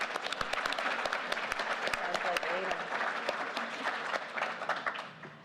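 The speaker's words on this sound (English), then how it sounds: "Let's give her a round of applause" Audience at a PAX West gaming convention stage applauding steadily, a dense sustained clapping wash with crisp individual claps, fading slightly at the end.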